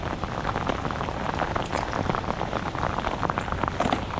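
Steady rain pours down at a river dock in Florida while fishing, a dense continuous hiss and patter of drops that fills the scene with no pauses and no talking.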